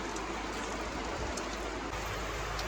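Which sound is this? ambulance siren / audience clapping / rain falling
rain falling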